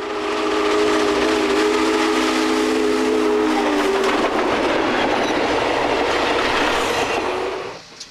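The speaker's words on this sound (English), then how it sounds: "Union Pacific Challenger" Union Pacific Challenger 3985, a big articulated steam locomotive, rumbles loudly and steadily up close. Its deep, multi-tone steam whistle sounds over the roar for about the first four seconds, then the heavy rolling train noise carries on alone.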